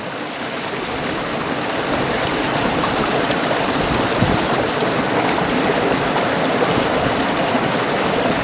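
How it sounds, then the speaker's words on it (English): A water bag is filled at a small mountain stream on open moorland, the steady, loud rushing and gurgling of water continuing throughout without pause. "So I'm going to fill this water bag up here."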